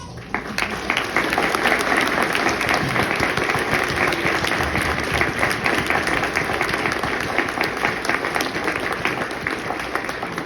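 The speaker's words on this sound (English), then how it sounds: "I would like to give you an applause. Let's applaud." Sustained applause from a crowd of faithful at a bishop's banquet of the Eparchy of Phoenix, steady and full for about ten seconds, filling the dining hall without interruption.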